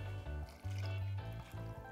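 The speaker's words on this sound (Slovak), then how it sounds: "a dolejeme ešte tak pol litra vody." About half a litre of water poured from close by into a pot of French lentil soup with broth, a short gurgling trickle with a pitched, resonant filling tone.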